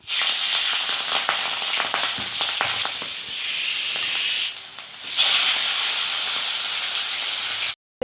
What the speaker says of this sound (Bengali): এদিকে প্রেশার কুকারে বসিয়ে দিয়েছি ডাল